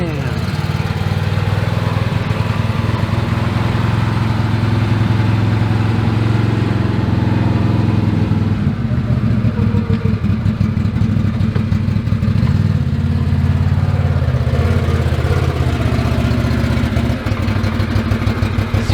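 A 2021 Can-Am Maverick Sport XRC side-by-side fitted with large XM310 mud tires runs steadily outdoors, its mid-pitched engine droning loud and close throughout, with people talking over it.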